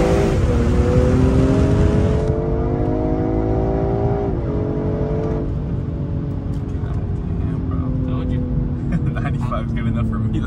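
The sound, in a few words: BMW M340i with custom single exit exhaust accelerating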